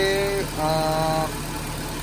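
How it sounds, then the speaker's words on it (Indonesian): A Nissan Grand Livina engine runs steadily at idle after its AC pulley set was replaced, a smooth even hum without harsh rattling, heard close and alone, with faint tonal whines at the start. "suara mesin mobil kondisinya normal kembali"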